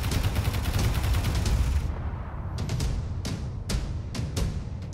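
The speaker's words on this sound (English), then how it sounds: "We're taking fire." Rapid gunfire in Space Engineers, a dense burst of shots for about two seconds, then scattered sharp single reports and short bursts spaced through the rest, fairly loud and close with no talk over it.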